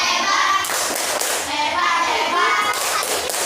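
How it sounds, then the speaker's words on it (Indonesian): Classroom of fifth-grade pupils doing a rhythmic group clapping chant, dense sharp claps ringing out loud and steady for a few seconds, with children's voices mixed in. "Tepuk hebat. Kelas untuk kelompok 5."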